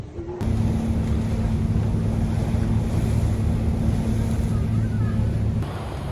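A boat waiting to depart from Padang Bai harbour in Bali, with steady wind noise and water wash running loud and continuous throughout, briefly cut at the start and end.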